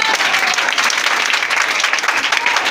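A church congregation applauds, dense steady clapping from many hands that fills the room, close and loud, with no break.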